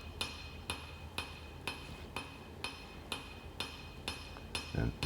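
A steady hand hammer strikes hot steel while beveling a hidden-tang hunting knife. There are about nine ringing metallic blows, evenly spaced at just over half a second, close up over a faint shop hum.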